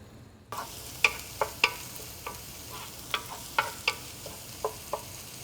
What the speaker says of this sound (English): Now to this I'm going to add about a 1/2 cup of stock and let that reduce a little bit